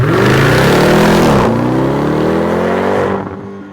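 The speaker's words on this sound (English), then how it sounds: "The snarl from the V8, the whine that you get from the supercharger coming out of this upgraded performance exhaust" Supercharged V8 of a 2023 Dodge Durango Hellcat revving loudly through an upgraded performance exhaust, a rising snarl with a supercharger whine that climbs, dips and settles before fading out near the end, close and without talk.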